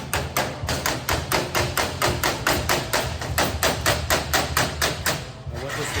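Hammer taps metal tail light buckets to taper them in before welding on a custom Mercury wagon build: a steady, rapid series of about twenty sharp metallic knocks, close and evenly spaced.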